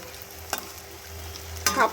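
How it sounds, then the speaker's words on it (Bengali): Potol (pointed gourd) fritters frying in a pan, giving a low, steady sizzle with two brief sharper bursts of spattering, close and fairly quiet, with no talking. "কটা বড়াকেই সেমভাবে ভেজে নেব"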